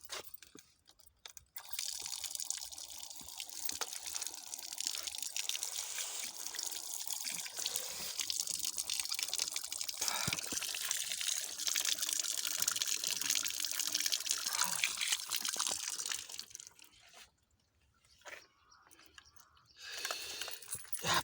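Water runs steadily from a tap at a picnic hotel, a continuous hissing splash that holds for most of the stretch, briefly stops near the end, then resumes.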